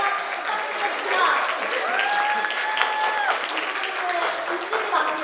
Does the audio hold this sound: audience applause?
yes